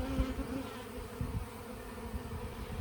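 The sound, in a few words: bees shaken off a brood comb from top bar hive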